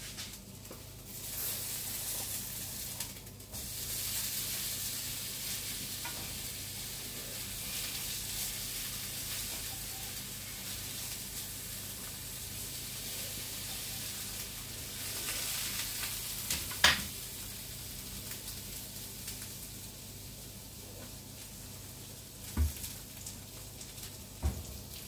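Sliced eggplant sizzles and fries steadily in two pans, some under lids, a constant close hiss with a few faint clinks and pops and no voices.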